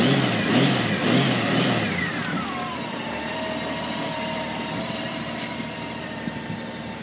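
A 2005 Honda Goldwing GL1800A motorcycle engine starts and revs up close, a rising rev that sweeps down and settles into a steady idle hum.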